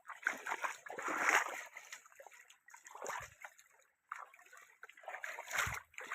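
Children bathing stir up water in loud irregular bursts of splashing and sloshing, close by, separated by short quiet gaps, with faint voices mixed in.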